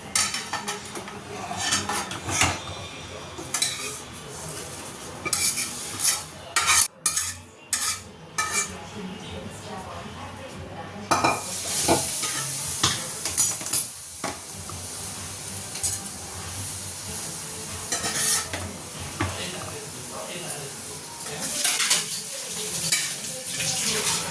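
A spoon stirs roasted vermicelli in ghee in a pan, giving repeated metallic scrapes and clinks against the pan over a quiet sizzle, with a sharper flurry of clanks partway through.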